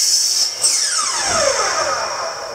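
A power tool cuts a short piece of larger-size PVC pipe, producing a loud, steady high-pitched whine throughout, with a falling tone sweep partway through the cut.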